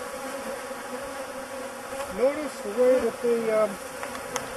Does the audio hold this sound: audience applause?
no